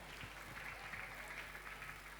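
Congregation applauding at a Holy Mass during an annual pilgrimage, a faint, steady wash of clapping that holds evenly throughout.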